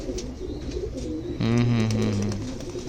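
A red Punjabi pigeon, a strong home-bred flier, gives a loud, close, drawn-out coo midway through, over quieter low background murmur.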